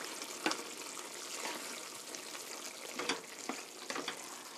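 Chicken soup being stirred in a pot after ground black pepper is added, with a soft bubbling, sizzling bed and a few louder scraping strokes of the spoon, all fairly quiet.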